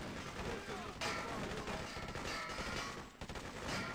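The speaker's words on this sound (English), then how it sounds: "My gun's going crazy." Rapid gunfire fills a busy firefight in the video game Freedom Fighters, continuous bursts layered with battle noise and a voice talking throughout.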